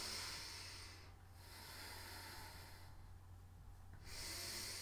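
Breaths during a side plank in a yoga flow, long airy hissing inhales and exhales with short pauses between them, close and soft.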